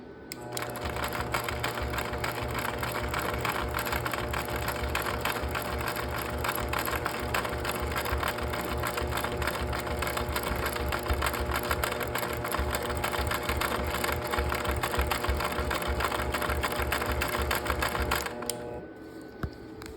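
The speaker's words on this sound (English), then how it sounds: "secure it with tack stitches" A longarm quilting machine sews tack stitches through a quilt canvas held on leader grips, giving a steady, close mechanical whir and rapid needle chatter that runs without pause for about eighteen seconds before stopping.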